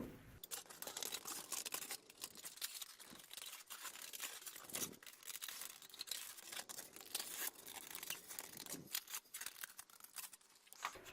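Aluminium foil being cut around a tray with scissors, continuous crinkling and rustling with sharp snips and crackles throughout, close up, with brief pauses and no speech.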